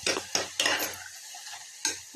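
A spoon stirs ginger and garlic through vegetable biryani masala in a pan, giving four or five separate scraping strokes, loud and close, with quiet gaps between them and no talk.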